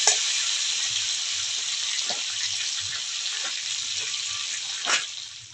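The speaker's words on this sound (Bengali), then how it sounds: "লবণ হলুদ দিয়ে আলুটা ভালো করে ভেজে নেবো।" Potatoes sizzle in oil with turmeric and salt, giving a steady high hiss with a few stirring scrapes and a brief louder clatter near the end.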